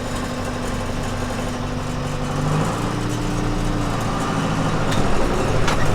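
A vehicle engine running steadily and loudly after a shift into third gear, with a constant drone that rises slightly near the end.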